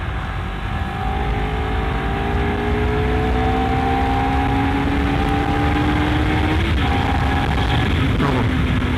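A Honda CBR250RR motorcycle revving hard in its sport-plus riding mode, a loud continuous engine whine that rises steadily in pitch, then drops at a gear change and climbs again, set against heavy wind rush.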